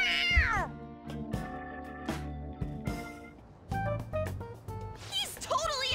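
Several meows from a cat in the video game Persona 5 Royal, set among game music and voiced lines, with talking heard between and over the meows.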